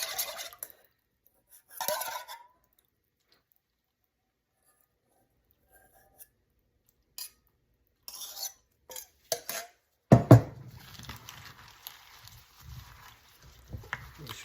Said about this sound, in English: Then we're going to dress this guy and toss it again.